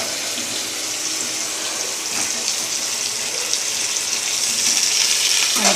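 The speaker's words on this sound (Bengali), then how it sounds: "আলুটা ভেজে নিই, সব আলুগুলোও দেবো না।" Potatoes frying in hot oil for chicken kosha, a continuous bright sizzle and hiss that grows slightly louder toward the end, close and alone without talk.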